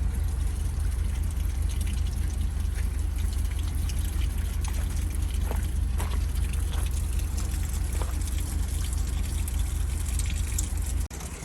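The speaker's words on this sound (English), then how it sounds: "we'll turn the water on and let it flush out the system" Water runs steadily through a hose to flush out the holding tank system on an RV, a continuous pouring trickle with faint drips, heard alone with no talk.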